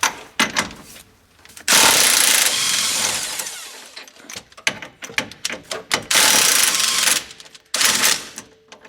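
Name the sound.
loosening and removing brake caliper bolts on a car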